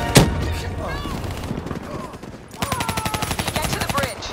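Rapid automatic cover fire in Call of Duty Black Ops 3 rattles in a steady rhythmic burst, following a sharp opening shot and voices talking over the game noise.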